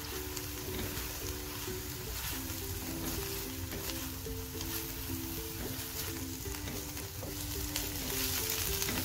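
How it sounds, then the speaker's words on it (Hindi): Ginger paste sizzles and fries steadily in a pan of cooked onions for a potato pinwheel samosa filling, a continuous close crackle with a faint hum underneath and no talking. "अब हम डालेंगे अदरक का पेस्ट, इसको भी हमने हल्का सा सोते करना है"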